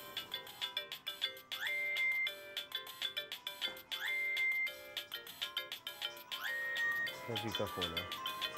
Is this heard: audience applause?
no